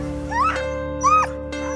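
Sled dogs in Canadian Labrador give a few short whimpering, whiny yelps in two or three bursts over a steady low droning background.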